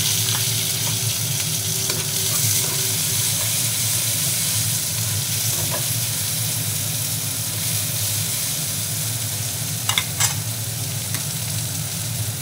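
Onion, garlic, tomato, chopped coriander and chili sizzling steadily in a pan, a continuous close frying hiss with occasional clinks and scrapes of stirring, no voices.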